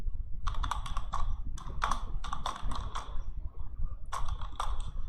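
Close, brisk typing on a computer keyboard as a name is entered, quick clusters of key clicks broken by short pauses, over a steady low hum.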